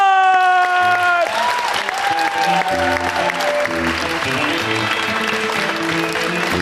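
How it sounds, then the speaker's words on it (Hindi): Studio audience on a Pakistani talk show breaks into applause, a sustained clatter of many hands that swells and holds under fading music tones, with light cheering mixed in. "लेडीज एंड जेंटलमैन, दोबारा आपने जोर से तालियां बजानी है"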